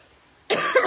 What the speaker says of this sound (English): I've still got this horrible cough